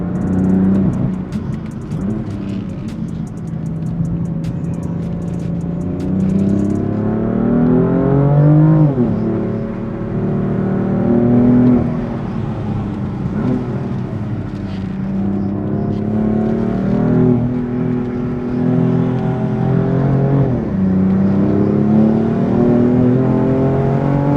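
A BMW M4 Competition F82 engine pulls hard while being driven, its roaring note climbing steadily through several surges and dropping at gear changes, loud and close with no voices.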